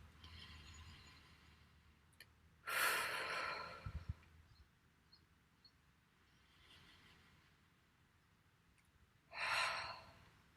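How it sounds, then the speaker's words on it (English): Two deep breaths during a calming tapping exercise, each a breathy exhale or sigh heard close by, several seconds apart, over a quiet background. "take a few deep breaths"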